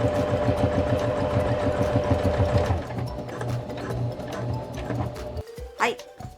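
Sewing machine running steadily, stitching along the top edge of a handmade tablet case of 100-yen-shop fabric, a fast rhythmic whir for about three seconds before slowing and stopping, with a few soft handling noises after.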